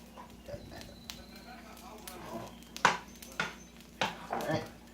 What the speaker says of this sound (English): I'm just rough chopping it, and I'm rough eyeballing how much I want